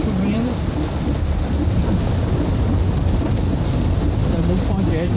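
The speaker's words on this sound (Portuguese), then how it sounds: "aqui tá chovendo." Heavy rain pours steadily over a city during a thunderstorm, with low thunder rumbling through a dense, continuous wash of rainfall for the whole stretch.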